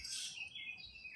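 Bright, high chirps from several birds trill and overlap steadily, fairly close, with a soft low background rumble.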